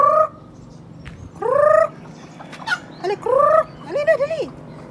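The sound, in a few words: chicken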